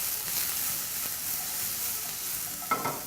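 Liver and cherry tomatoes sizzle over high heat in a pan, a steady bright hiss of frying with a brief louder clatter of tossing near the end.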